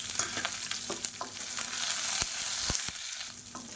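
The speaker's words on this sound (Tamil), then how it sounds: "வெங்காயம் நல்லா வதங்கிருச்சு" Small onions frying in a pan with broken dried red chillies and curry leaves, a steady close sizzle with occasional stirring clicks and scrapes throughout.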